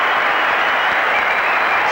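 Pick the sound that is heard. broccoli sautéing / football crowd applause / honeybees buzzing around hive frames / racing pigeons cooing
football crowd applause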